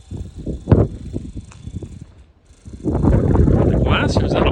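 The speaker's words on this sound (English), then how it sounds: "Now it's windy." Wind gusts at the Flight 93 National Memorial, starting as a buffeting rush and swelling into a loud, sustained roar on the microphone after a brief lull, close and without other sounds.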